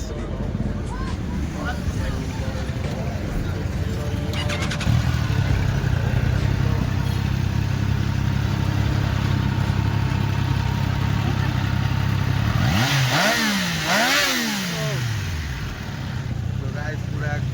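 A 660 cc motorcycle engine runs with a steady mid-pitched drone, then near the end rises and falls in a few quick rev sweeps, heard close up outdoors.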